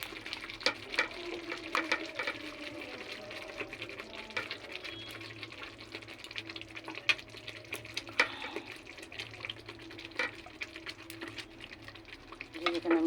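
Hilsa pieces are laid one at a time into lightly fried mustard spice paste in a pan, bringing a soft sizzle broken by frequent clinks and scrapes of utensils throughout.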